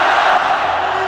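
A large arena crowd of mostly Chinese fans cheers and roars at the Dota 2 Asia Championships grand final, a loud, dense wash of sound that holds steady throughout.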